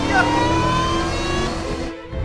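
The engine of an off-road Sprinter van fitted with a Whipple supercharger revs hard and close, giving a loud, steady roar with a rising whine before it cuts off near the end.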